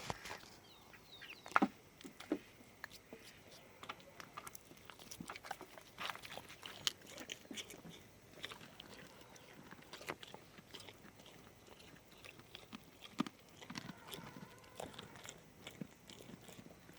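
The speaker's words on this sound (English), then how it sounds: "You hear the beans crunching?" Goats munch beans in a pasture, giving soft, irregular crunches and chewing clicks close by at low level, with quiet gaps between bites and no talking.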